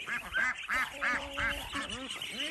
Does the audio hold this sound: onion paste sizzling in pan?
no